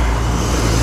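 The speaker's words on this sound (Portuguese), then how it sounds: "Ó o carro, peraí." A car on a Curitiba road goes by close to cyclists in a loud, brief, broadband whoosh. No talk is heard.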